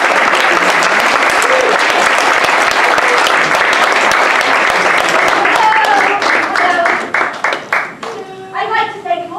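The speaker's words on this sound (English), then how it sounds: "Let's give her a big round of applause." Audience applause at an improv comedy show, dense and loud at first, then thinning into scattered claps as a voice begins speaking near the end.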